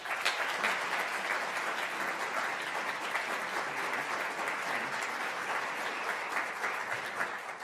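An audience at the annual Schultz Lecture on U.S. energy policy gives a steady, full round of applause to welcome the speaker. The clapping is sustained and even throughout, with no talking.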